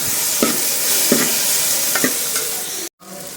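Ginger paste fries in a pan with a continuous bright sizzle and a few stirring scrapes, cut by a sudden near-silent gap just before the end, with no talk.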